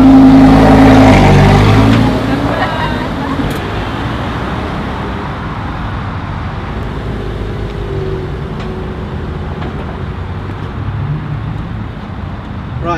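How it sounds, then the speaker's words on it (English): A Lamborghini Superleggera in sport mode gives a loud, deep engine roar that drops after two seconds into a steady rumbling drone with road and wind noise, continuous with no talk. "it's obvious to say that I'm driving a Lamborghini"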